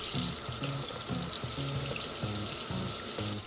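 Tap water runs steadily into a kitchen sink while a gutted saury is rinsed under it, a close, continuous splashing flow with a slight uneven patter throughout.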